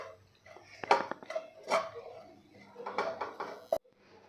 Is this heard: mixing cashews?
yes